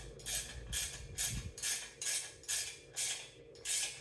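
A hand wrench works a bolt loose in a home shop, giving eight evenly spaced ratcheting clicks about half a second apart, close and fairly quiet, with no talk over them.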